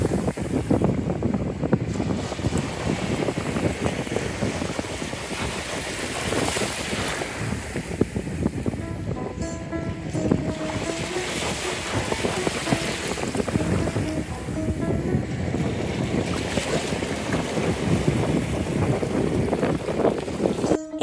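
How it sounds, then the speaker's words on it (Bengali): Surf roaring steadily on the North Sea beach at Hook van Holland, continuous crashing waves with gusty wind buffeting, loud and close throughout with no voices. "সমুদ্রের এই গর্জন আর সাথে সুন্দর ঢেউ"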